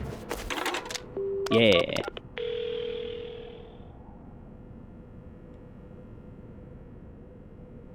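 A telephone in the game Paranormasight gives a steady dial tone after brief clicks and button beeps, the hum holding for about a second before fading into quiet room noise; a voice murmurs once at the start.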